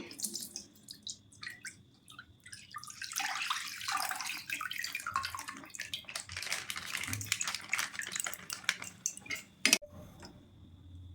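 Full cream milk, five hundred grams of Amul Gold, pours into a pan for homemade khoya, a soft continuous splashing and trickling that runs for several seconds and then thins to drips, faint and close.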